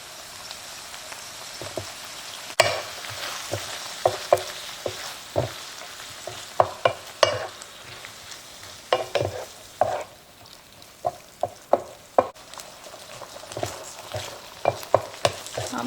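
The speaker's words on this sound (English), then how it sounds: "gonna wait till that tomato sauce kind of get toasted with the meat and kind of cook together a little" Ground meat and tomato sauce sizzle steadily in a pan while a spoon scrapes and stirs in irregular, clattering strokes, close and fairly loud with no talking.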